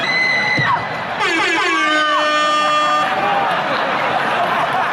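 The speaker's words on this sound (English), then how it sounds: "That air horn always pushes the joke through." An air horn blares at a Dave Chappelle stand-up comedy show, with several loud sustained blasts whose pitch slides and wavers, over crowd noise and cheering from the audience.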